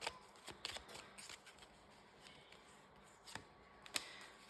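Cards are shuffled and drawn close up on a tabletop, with quick riffles and soft flicks and snaps in irregular bursts, fairly quiet with short pauses between them.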